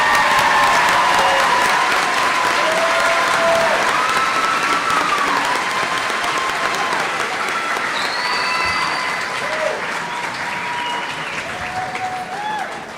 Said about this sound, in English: I feel like they deserve another big round of applause.